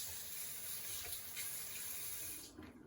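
A spoon is rinsed under a running kitchen tap while cooking Jamaican rice and peas, with a steady hissing stream of water splashing into the sink that cuts off near the end.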